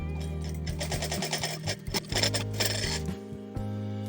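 A sewing machine stitches fabric in rapid mechanical bursts, its motor whirring with a ticking needle rhythm that speeds and slows over a few seconds, close and clear with no talk.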